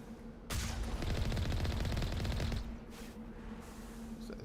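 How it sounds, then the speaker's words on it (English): Enemy gunfire in the Mass Effect: Legendary Edition video game: a loud, dense burst of rapid automatic shots lasting about two seconds, then a quieter background with fainter reports. "Oh, and they're shooting already."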